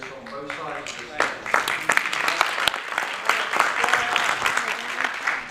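Audience applause fills a city council meeting chamber in Parkersburg, West Virginia, a dense crowd clapping that swells after a second and holds steady, moderately loud throughout.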